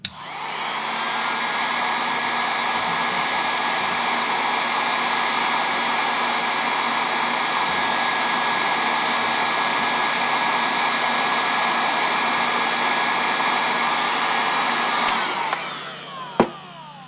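A hair dryer or heat gun runs steadily at close range for about fifteen seconds while heating and softening a Kydex sheath tab, then shuts off with a couple of small clicks and knocks.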